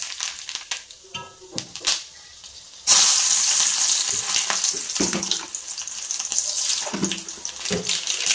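Onions frying in a pan in a village home kitchen. A loud sizzle starts abruptly about a third of the way in and holds steady, preceded by clinks, taps and running-water sounds, with a little faint background voice.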